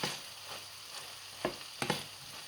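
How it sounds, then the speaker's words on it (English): A prawn and manchego omelette sizzles softly in a pan over high heat, a steady faint frying hiss broken by a few brief sharper crackles and scrapes near the end. "Prawns are cooking nicely."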